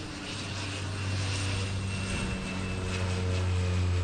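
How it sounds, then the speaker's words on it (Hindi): A seaplane flying in to land on water, its propeller engine giving a steady droning hum at moderate distance that builds slightly across the clip. "ये देखो यहाँ पे ऐसे सी प्लेन्स चलते हैं और ये पानी में लैंड करेगा।"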